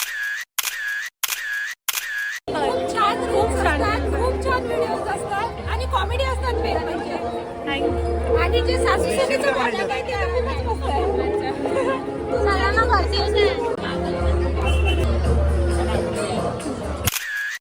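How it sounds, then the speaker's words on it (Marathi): Dense crowd chatter at a busy Ganpati festival gathering in Amravati, many voices murmuring continuously close around, with people talking nearby and some rhythmic low thumping in the background. "गर्दी आहे इकडे खूप गर्दी आहे"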